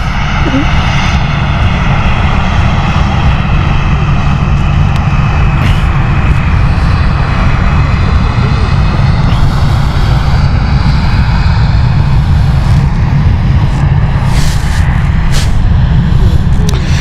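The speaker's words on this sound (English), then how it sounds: "Ryanair, which has just landed." A Ryanair airliner landing at Stansted Airport gives a loud, close, continuous jet engine roar that fills the whole stretch with a steady rushing drone.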